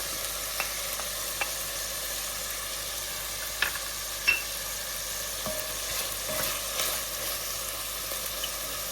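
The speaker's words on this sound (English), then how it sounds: "I'm going to add my garlic." Garlic sizzling in a hot pan while being stirred, a steady frying hiss with scattered light scrapes and knocks of the utensil, close and fairly quiet, no talk.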